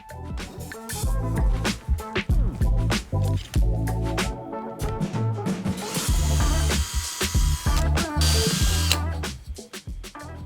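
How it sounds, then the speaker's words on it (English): A power drill bores 4mm holes through three aligned wooden boards, the motor whining loudly in repeated bursts, with a harsher, denser grinding stretch near the end as the bit cuts through. "we align the 3 boards with each other and drilled 2 4mm holes for the threaded rods to pass through"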